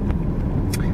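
A car rolls slowly along a potholed, abandoned road through open grassland, with a low, steady engine rumble from inside the cabin and a couple of brief knocks and rattles over the uneven surface.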